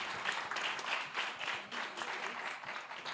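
Sustained audience applause at a fintech challenge semi-final event, a steady dense wash of clapping filling the whole stretch at moderate loudness with no speech over it.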